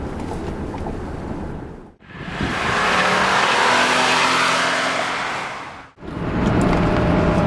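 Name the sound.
Lexus GS450h hybrid car accelerating, gas engine kicking in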